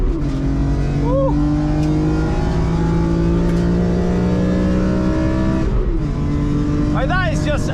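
BMW M3 CSL on semi-slick tyres at the Nürburgring, its engine revving hard and loud from inside the cabin with rising and falling pitch through gear changes, a brief shift dip near the end.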